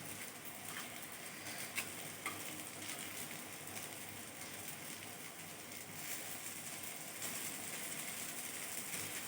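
Gunta ponganalu frying in oil in the round wells of a paniyaram pan at home, a steady soft sizzle with faint crackle throughout, no one talking.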